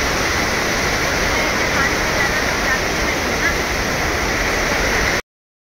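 River water rushes during a crossing on foot near a temple in Dharampur, Valsad, a loud, steady roaring flow close by that cuts off abruptly near the end.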